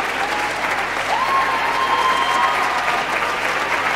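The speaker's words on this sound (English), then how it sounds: "ask the choir to give you a hand clap" An audience at a fall gospel concert applauds the choir's parents and relatives with steady, dense clapping that holds at full strength throughout, and a brief whistle rises above it.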